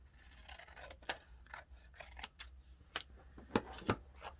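Paper is trimmed with scissors for an envelope-pocket journaling card, a quiet close series of crisp snipping cuts, about eight to ten in an irregular rhythm.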